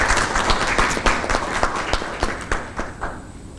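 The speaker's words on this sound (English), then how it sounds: "Can I have a round of applause for that" An audience applauds at a launch event, a steady round of clapping with distinct louder claps standing out, fading slightly toward the end with no talk over it.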